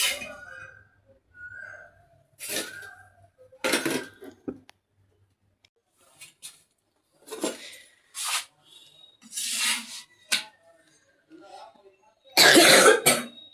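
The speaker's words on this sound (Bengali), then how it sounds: "কাশির বাড়ি হয়ে গেছে।" Several separate coughs ring out close by, spaced irregularly with quiet pauses and faint kitchen clinks between them; the last burst is the loudest.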